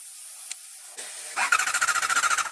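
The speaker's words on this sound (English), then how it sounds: "The starter motor turned for a brief moment, just as I expected." The starter motor of a Honda Hornet 250 motorcycle cranks for about a second, a rapid rhythmic chugging that follows a few faint clicks and background noise, with no voices.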